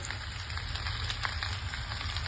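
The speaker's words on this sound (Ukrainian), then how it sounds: "Продовжуємо смажити до моменту, поки грудинка гарно підсмажиться" Potatoes and diced smoked brisket fry in a pan with a steady, close, crackling sizzle that holds at an even level throughout, with no voices.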